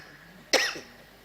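A single short cough from a person rings out once, fairly close, in an otherwise quiet room, with a faint throaty tail after it.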